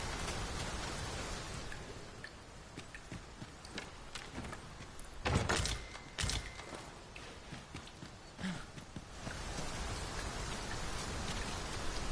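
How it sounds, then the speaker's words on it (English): Rain falls steadily in the video game Dragon's Dogma 2, a dense patter with a few louder thumps and clatters partway through. "Hope this rain ever let up."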